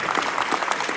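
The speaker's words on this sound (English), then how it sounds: "Give them a round of applause." Steady applause from an audience at a business forum, a continuous wash of many hands clapping at moderate level with no voices standing out.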